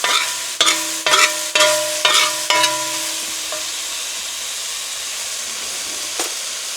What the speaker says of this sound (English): Give these noodles a quick stir.